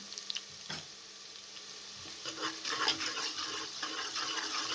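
Garlic and ginger fry with moong dal in a pan over medium flame. The sizzle is soft and low, and a spoon stirs and scrapes now and then.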